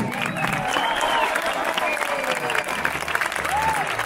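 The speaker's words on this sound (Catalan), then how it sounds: "Vinga, aplaudiu-lo." Crowd at the Sant Sebastià village festival applauding steadily and loudly throughout, with voices and whistles mixed in.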